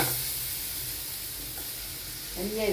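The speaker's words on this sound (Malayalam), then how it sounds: "ഇതാ പഴം അരിഞ്ഞു വെച്ചതില്ലേ, അത് നമുക്ക് ഇതിലേക്ക് ഇട്ട് കൊടുക്കാം" Chopped plantain tipped into a pan of frying coconut pieces gives a steady sizzle that runs throughout, with a brief scrape of stirring near the end and no talk.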